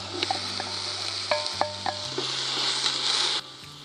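Mushrooms, a mix of Swiss browns, shiitake and button mushrooms, frying in oil in a pan for venison stroganoff: a steady close sizzle with a few sharp clinks and stirring knocks, the hiss swelling before cutting off.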